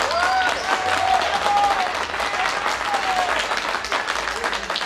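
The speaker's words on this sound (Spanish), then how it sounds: "Aplausos para Lauren Hudson." Dense, sustained audience applause for a drag performer at a show, a loud steady wash of many hands with a few whoops and cheers rising above it throughout.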